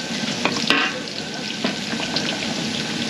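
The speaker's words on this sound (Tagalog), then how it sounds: "So gigisa na tayo ng bawang sibuyas." Garlic sizzles and crackles in hot oil in a pan for menudo, a steady loud fry with a few clinks of stirring utensils.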